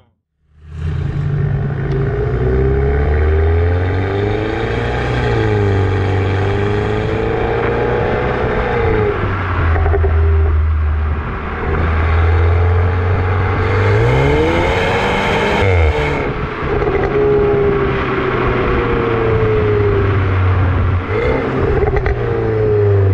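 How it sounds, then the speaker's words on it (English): A Mercedes A250's engine and exhaust burble loudly and steadily, with low rumbling pulses that swell and dip as the throttle is eased on and off. Close and continuous, with no talking. "Let go of the throttle, that burbly sound really enhances the driving experience of this car."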